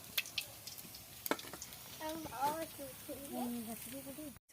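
Potatoes frying in oil in a Bengali home kitchen give a steady, soft sizzling hiss throughout, with a voice talking over the cooking.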